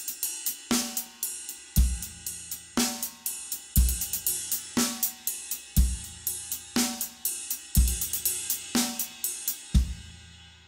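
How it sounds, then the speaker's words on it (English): A drum groove of straight sixteenth notes broken up by a six-stroke roll that starts on the double, with Istanbul Mehmet cymbals washing over crisp, regular backbeat hits, played solo and fairly close. "that version was using the 6-stroke roll starting with the double"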